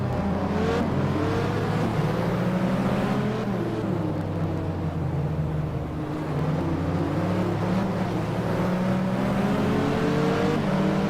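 Race car engine in an FIA GT racing video game at Silverstone, droning steadily and loud with harmonic pitch sweeps as the throttle is feathered up and down, rising and falling through the whole stretch with no talk.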